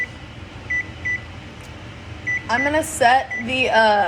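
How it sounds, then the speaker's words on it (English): An oven timer being set while cooking fried potatoes: a few short, evenly spaced beeps from the control panel, followed by a voice-like warble near the end. "oven timer on for 7 minutes just to let that cook"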